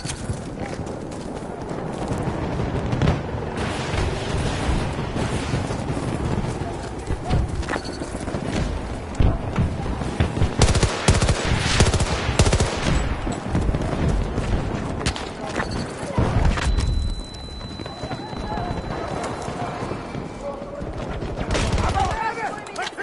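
Battlefield video game combat: bursts of gunfire and machine gun rattle crackle through a dense, chaotic battle mix that stays loud throughout, with other thumps and clatter layered in and voices calling out at times.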